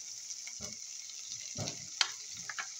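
Minced meat, pre-boiled, sautes in a pan with cherry tomatoes, giving a steady high sizzle throughout, broken by a few soft scraping stirs of a spatula, quiet and close.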